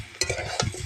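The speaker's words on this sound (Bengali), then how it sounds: "ভালো করে আমরা ওই জিনিসটাকে কষবো, মশলা দিয়ে কষবো" Food stirred with spices in a pan, salt, turmeric, ginger-garlic paste and onion being fried down; two scraping stir strokes over a soft steady sizzle, close and moderately loud, no talk.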